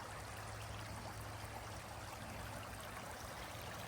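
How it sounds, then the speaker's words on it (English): A creek flows beside a nature trail, giving a steady, full rush and trickle of water that carries on evenly throughout with no voices. "We're going to cross this creek"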